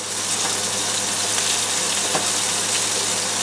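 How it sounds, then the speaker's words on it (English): Sausage frying in a pan, a loud, steady sizzle with constant crackle and hiss from start to end. "The sausage goes into the pan."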